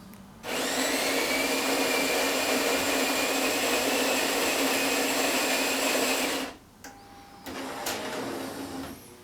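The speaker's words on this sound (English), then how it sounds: "As you can hear, the grinder's grinding fresh." The built-in grinder of a Jura ENA Micro 1 automatic espresso machine whirs loudly and steadily for about six seconds grinding coffee beans, then cuts out, followed by quieter mechanical humming from the machine.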